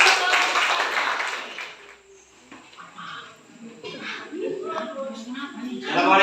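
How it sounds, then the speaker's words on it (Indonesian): A classroom of students applauds after a group presentation, a dense burst of clapping for about two seconds that fades out before talk and room noise take over. "Oke, tepuk tangan."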